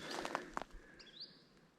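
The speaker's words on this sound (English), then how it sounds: "That's a bird that I have disturbed now." A short bird call rings out in a quiet outdoor setting, a thin rising chirp after a few soft rustles and footfalls nearby.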